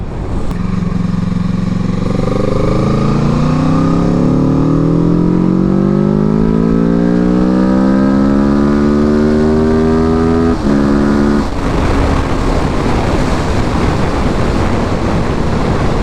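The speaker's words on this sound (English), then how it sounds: "This is my 2015 Kawasaki Ninja 650R ABS." A 2015 Kawasaki Ninja 650R ABS motorcycle accelerating hard through the gears, its engine pitch rising steadily, a brief dip at a gear change, then a continuous roar mixed with loud wind rush, close and intense.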